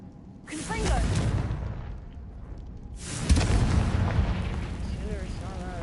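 Two booming Confringo spell blasts in Hogwarts Legacy, each a loud explosive burst followed by a crackling, rumbling tail, with a game voice shouting over them.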